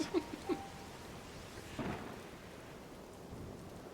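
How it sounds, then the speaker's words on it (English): Rain and rolling thunder in a Zelda game set in Hyrule: a few sharp low cracks early on, another heavy rumble near the middle, then a steady wash of rainfall with no voices. "But we have to wait for the rain."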